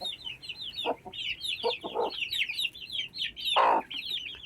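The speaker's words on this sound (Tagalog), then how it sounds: "Yan yung ating pinalalakihan ng sisiw." Young chickens being raised on a farm cluck and peep softly, with a busy chorus of small chirps and a few louder clucks, nearby and moderately quiet.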